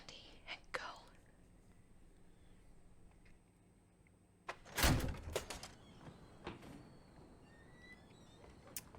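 Someone knocks on a front door in a haunted-house drama, then runs off: sharp close raps build to a loud cluster of bangs, followed by fainter thumps and shuffles, with hushed whispering throughout.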